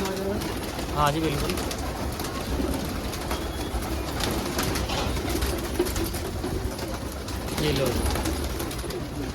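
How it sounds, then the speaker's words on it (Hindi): Pigeons cooing in a loft among a large flock of fancy coloured pigeons, soft repeated coos rising now and then through steady background noise while people talk nearby. "कितना कबूतर है"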